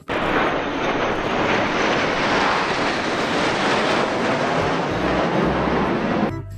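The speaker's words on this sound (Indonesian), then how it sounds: "Wow, pesawat jet teman-teman." A toy fighter jet gives off a steady, loud roaring engine whoosh that holds evenly for several seconds and then cuts off abruptly, close by with no talking.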